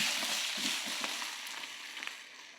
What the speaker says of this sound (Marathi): आपल्याला कलर चेंज होतो तोपर्यंत आपण कांदे असेच फ्राय करून घेऊ